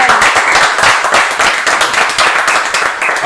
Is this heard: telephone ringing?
no